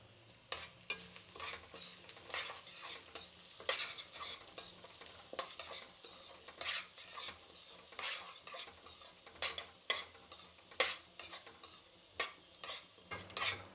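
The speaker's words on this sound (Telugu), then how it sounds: "అలాగే శనగపప్పు, ఉద్దిపప్పు, మిరియాలు, జీలకర్ర. ఇప్పుడు వీటిని వేయించుకుందామండి కొంచెము." Chana dal, urad dal, black pepper and cumin dry roasting in a pan for Karnataka-style bisi bele bath, with steady scraping stirs and sharp clicks of a utensil against the metal, close and rhythmic, no talking.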